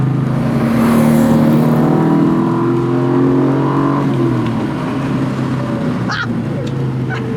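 A little MG MGB fitted with a custom-built V8 drives past with a loud, steady, deep engine roar that holds throughout, and a brief higher squeal near the end.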